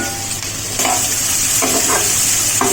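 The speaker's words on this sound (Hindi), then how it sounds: "प्याज जो है गोल्डन ब्राउन हो गया है। इसी में कटा हुआ जो बैगन था इसे डाल देंगे।" Chopped eggplant sizzles loudly as it fries in a pan with golden-brown onions, a dense constant hiss close by, with stirring scrapes breaking through now and then.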